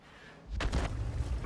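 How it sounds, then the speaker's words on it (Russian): A single loud tank cannon shot in the World of Tanks video game, a sharp boom that breaks out after a low hum and rolls on as a rumbling tail. "Выстрел."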